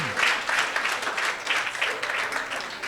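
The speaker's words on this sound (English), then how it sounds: "A round of applause to them," Audience applause at an investment networking session, steady mid-level clapping throughout the short stretch with no talk.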